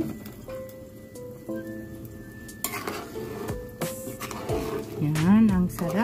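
Pompano fish goes into a cooking pot with tomato, ginger and onion, bringing clanks of utensil on metal, stirring and a light sizzle, while a person talks over the cooking throughout.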